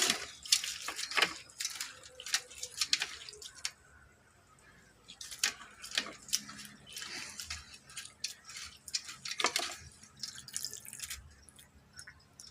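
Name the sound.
washing and soaking poha (flattened rice flakes) in water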